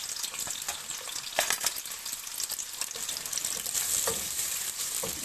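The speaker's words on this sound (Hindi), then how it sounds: "इसमें सबसे पहले ये बारीक प्याज" Finely chopped onion fries in hot oil as the start of a beef kofta curry gravy, giving a dense, steady sizzle with stirring scrapes and a few sharper clatters, close and loud, without speech.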